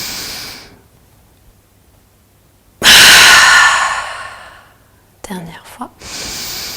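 Deep yoga breathing: a long, forceful exhale rushes out close to the microphone and then fades. A softer breath follows amid quiet pauses.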